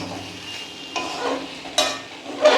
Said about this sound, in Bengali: এই যে মশলাগুলো ভাজা ভাজা হয়ে গেছে